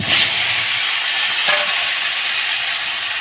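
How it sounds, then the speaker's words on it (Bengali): Potatoes frying in hot oil in a Bengali home kitchen, a steady, loud, continuous sizzle and hiss close up, with no talking. "আলুগুলো আমি ভালো করে ভেজে নিয়েছি"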